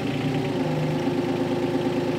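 An excavator engine idles steadily up close after being converted to run a hydraulic wood splitter, a constant low rumbling drone with no talk.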